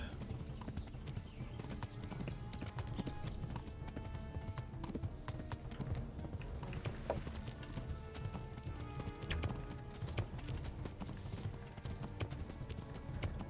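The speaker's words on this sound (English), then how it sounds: "I'm gonna try and kill this horse." Hooves clip-clop in a steady, continuous galloping rhythm as a horse runs in Kingdom Come: Deliverance, a medieval video game, with game ambience layered under it and no pauses throughout.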